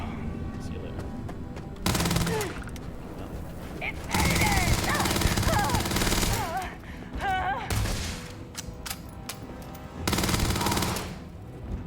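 Gunfire from a video game gun that sets targets on fire rips out in several loud automatic bursts, separated by short pauses filled with quieter game sounds and a voice talking.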